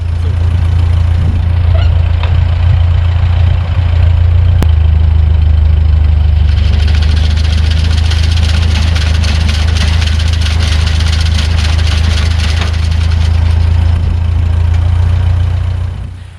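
A John Deere tractor engine runs steadily at a loud, low idle, driving a John Deere 39 sickle mower through a PTO shaft, with a constant rumble and a rising mechanical rattle partway through.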